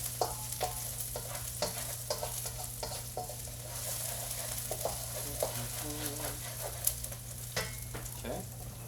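Aromatics sizzle and fry in a pan with a steady crackle, broken by regular scrapes and clinks as they are stirred, close and fairly loud.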